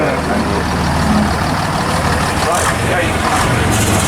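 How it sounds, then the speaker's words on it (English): A 1950 AC Regent fire appliance rumbles close by at a historic commercial vehicle run, its heavy, steady engine drone mixed with crowd noise and someone talking over it. "This is Henry Shrimpton up at Banstead with his 1950 AC Region 3 fire appliance."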